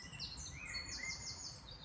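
Birds chirp and tweet in repeated short calls over a quiet morning clearing, a few small birds visiting at close to moderate distance, with no voices.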